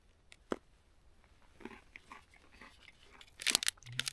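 Close, quiet crunching and chewing of a Swiss Army field ration biscuit cereal bar, with a few sharp bites followed by softer mastication and a louder crunchy burst near the end.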